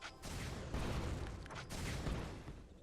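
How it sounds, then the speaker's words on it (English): Corki's Missile Barrage in League of Legends, several sharp explosive missile bursts in quick succession over a steady game background. "I chase him down and get into position to land two more shots from Missile Barrage."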